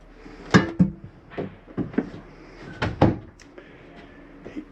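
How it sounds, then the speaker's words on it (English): An RV cabinet door in a 2022 Forest River No Boundaries 20.4 travel trailer is worked open and shut, giving a series of sharp wooden clicks and knocks with short rattles between them. "A door that you want snapped open for travel."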